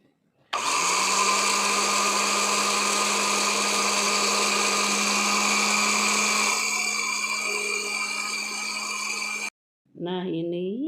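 Blender grinding dried turmeric into powder at home: a loud, steady whirring whine that runs for about nine seconds, changing tone partway through, then stops and brief talking follows.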